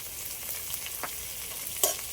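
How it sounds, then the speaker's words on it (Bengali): Prawns dusted with turmeric frying in a pan give a steady soft sizzle, with a few brief stirring clicks and a sharper scrape near the end. "সবগুলো একটু ভালো করে আগে ভেজে নেব।"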